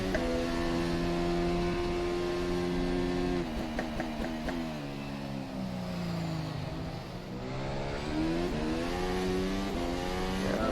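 Formula 1 car in rFactor 2 racing sim at Circuit of the Americas, engine screaming and revving with wheel spin, pitch dipping then climbing again as it accelerates out of a turn, steady and close throughout.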